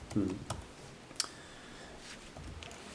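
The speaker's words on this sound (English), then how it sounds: "As soon as I finish typing this." At a town selectboard meeting, someone types on a computer keyboard in a room. The keys make scattered soft clicks and taps, with faint room noise and a little voice activity around them.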